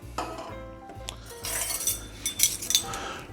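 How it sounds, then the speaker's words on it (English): A spoon stirs homemade sugar-free Kahlua coffee liqueur, knocking rhythmically against the container with a few bright clinks and scrapes, close and fairly quiet, with no talking. "Again, give that a little stir."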